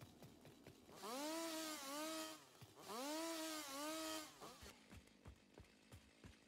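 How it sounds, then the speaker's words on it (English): A video-game chainsaw in Satisfactory cutting down trees and shrubs in a forest area, with two strong revving bursts of rising and falling engine whine separated by a short gap, followed by quieter clicks. "we just need a buttload of chainsaw work"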